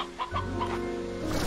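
Soft repeated clucks from a chicken in Slime Rancher 2, a video game, sound over a steady ambient game background, with no talk.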